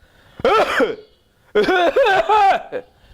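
A voice imitates a loud, harsh cough in two voiced bursts, a short one followed by a longer series, close and forceful.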